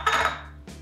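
A spoon scrapes and clinks in a small dish while scooping up microwave-heated lipstick, one brief scrape followed by a quick light tap, close and alone.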